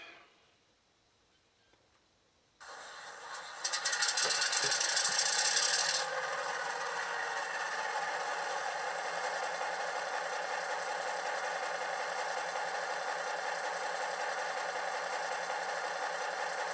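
A model locomotive starts up and settles into a steady idle, a buzzy electronic engine sound with a brief louder rattling rev at the start, then a constant drone close by.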